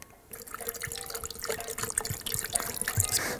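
Water splashes and trickles into a blender jug, starting after a brief quiet moment and growing fuller and busier toward the end, close by.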